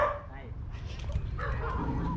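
Dog barking and yipping outdoors at a slingshot meetup, a few short barks and whimpers mixed under people talking nearby.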